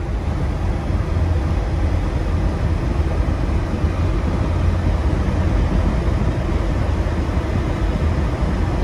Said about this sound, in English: keeping the defrosters on full blast